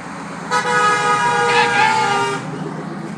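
An untagged junk vehicle passing on a paved neighborhood road, loud and close, with a sustained horn-like tone that rises and then cuts off, over a rumbling background.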